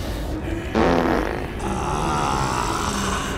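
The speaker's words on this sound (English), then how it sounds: "they couldn't even fart themselves their own sound effect" A fart sound effect from a movie plays as a loud, sputtering blast that starts abruptly and then trails into a longer buzzing rasp, standing alone without talk.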